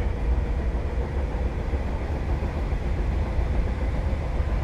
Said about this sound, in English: This train is for Liverpool Central.